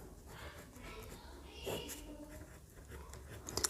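Chalk or marker writing on a board in a classroom, with soft scratchy strokes and a few taps, faint and intermittent under low room noise.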